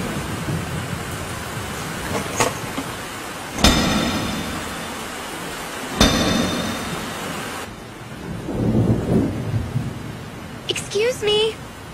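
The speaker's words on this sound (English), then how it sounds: "raining." Steady rain hiss broken by several sharp thunder cracks, with a voice speaking briefly near the end.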